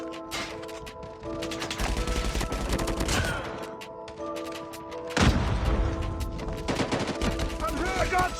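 Rapid automatic gunfire in a Call of Duty Mobile ranked multiplayer match, loud repeated bursts of shots with brief pauses between volleys and game sounds mixed in.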